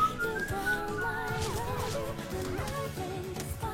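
A melodic whistle from the PUBG Mobile battle royale game warbles and glides continuously and loudly over busy in-game background noise.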